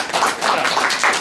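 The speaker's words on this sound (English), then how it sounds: "a round of applause for the legendary Todd Tuckey" Applause from an audience for Todd Tuckey at the Houston Arcade Expo, a short dense burst of clapping, close and fairly loud.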